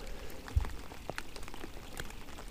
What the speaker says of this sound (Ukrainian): бо дощ валить, ну його нафіг.